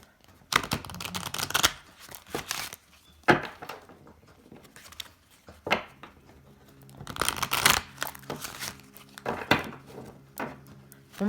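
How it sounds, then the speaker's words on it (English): Tarot-style love reading cards shuffled by hand in several separate bursts of riffling, slapping and crinkly card noise, fairly close, with short pauses between bursts and no talking. "So now we're going to shuffle them up, pick a couple,"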